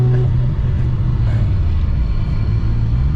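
A loud, steady mechanical whine and rumble from a noisy differential in a 900 hp R32 Skyline GT-R underway, a continuous droning hum heard from inside the cabin.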